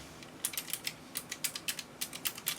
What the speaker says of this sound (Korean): 이게 이런 소리가 나도 엄연히 말하면 기계식 키보드는 아닌데요